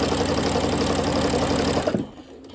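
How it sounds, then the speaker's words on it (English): Sewing machine running a continuous quarter-inch back-stitched seam on a small fabric tie, a steady close mechanical whir that cuts off abruptly near the end. "I'm going to do a back stitch using a 1/4 inch seam, and I'm going to run my seam all the way down"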